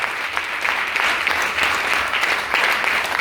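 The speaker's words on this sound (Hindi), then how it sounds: "वो अपने लिए ताली बजा दो।" An audience claps at a success-leader meeting held with Happy Health India in Bijnor, a dense, sustained round of applause from many hands that stays fairly loud and even throughout, with no talk on top.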